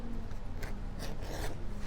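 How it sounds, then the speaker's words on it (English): A leather edger trims along the edge of a leather book cover, giving a soft, continuous scraping rasp with a few slightly stronger strokes, close and quiet with no talking. "going to go by with our edger first"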